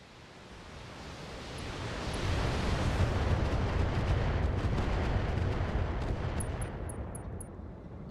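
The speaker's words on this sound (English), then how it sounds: "Let's see if we can bounce another missile off his cockpit." Missile volleys slam into an enemy mech's cockpit in the modded BattleTech game, building into a long, loud rumbling barrage of explosive impacts that swells and then slowly fades.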